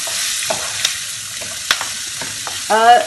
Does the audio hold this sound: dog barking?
no